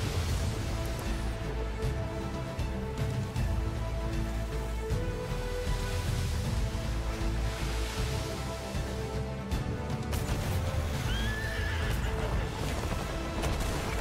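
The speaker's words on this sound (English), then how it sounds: "So that appeared to be a horse jumping from one ship to the other." A horse in the pirate game Atlas neighs and whinnies as it leaps from one ship to another, set against a dense, steady wash of game music and ambient sound with a brief rising whinny near the end.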